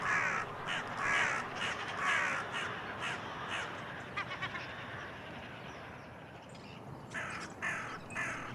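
Carrion crow cawing in a suburban park on a cold, sunny winter day, a series of harsh caws repeating in bursts over steady outdoor background noise.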